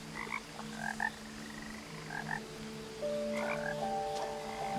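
At a pond in What Remains of Edith Finch, frogs give repeated croaks in loose bursts every second or so over a low droning ambience, with a thin sustained tone entering partway through; no one speaks.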